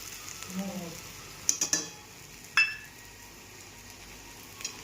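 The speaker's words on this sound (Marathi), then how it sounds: "चांगलं हलवून घेऊया." Soybean momo filling with capsicum, cumin powder and black pepper being stirred in a pan, a few sharp scraping and clinking strokes over a faint sizzle, close by and without talk.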